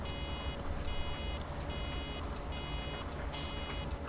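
Reversing beeper on a farm vehicle in a farming video game, a regular series of evenly spaced electronic beeps over a low, steady engine drone, with no talking.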